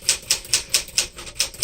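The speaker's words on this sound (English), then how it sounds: "they're just so easy to type with" Crisp, evenly paced keystrokes on a 1964 Smith-Corona Sterling manual typewriter, about seven sharp clacks in under two seconds, close and clear with no talking.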